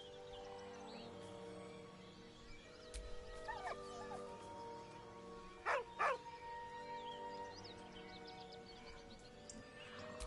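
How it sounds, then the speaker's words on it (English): A dog in Baldur's Gate 3 whines twice in a row, two short mournful cries rising out of a bed of game music and ambience. "With a deep, heartbroken whine, the dog bows his head."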